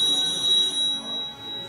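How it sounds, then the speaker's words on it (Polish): A telephone rings inside a museum exhibit in a historic pharmacy, a steady electric bell tone that sounds continuously and then pulses in a few short bursts as it fades, heard alone without voices. "Dzwoni telefon"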